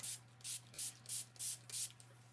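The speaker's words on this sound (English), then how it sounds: "I sprayed this sucker from stem to stern" A hand-pumped spray bottle of water misting a polymer clay mosaic spin tower, six quick hissing squirts in an even rhythm, close but quiet over a low hum.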